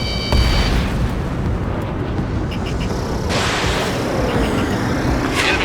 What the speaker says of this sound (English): Enemy transport destroyed.